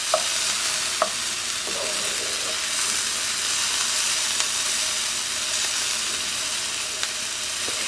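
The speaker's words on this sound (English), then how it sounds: "I'm sauteing 1 purple onion" Chopped purple onion and two garlic cloves sauté in olive oil in a frying pan, giving a steady close sizzle and hiss throughout, with a few sharp utensil clicks and taps as the pan is stirred.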